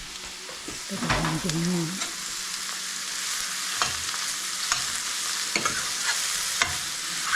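Mushrooms fry in hot oil in a pan, giving a continuous close sizzle with scattered stirring clicks; a voice briefly speaks near the start.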